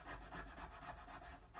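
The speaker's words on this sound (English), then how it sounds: "I can open that up with like a triangular file, a tri-corner" A triangular tri-corner file works into a wooden jeweler's bench pin, giving steady, rhythmic rasping strokes close up, with no talking.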